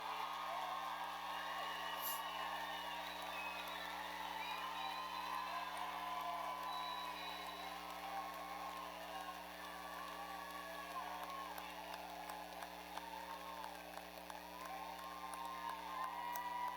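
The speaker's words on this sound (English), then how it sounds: "offer a round of applause and appreciation for all their love and" Crowd cheering and applause at the 2019 Rogers High School graduation ceremony, a steady broad wash of clapping and whoops throughout, moderately distant with no clear talk.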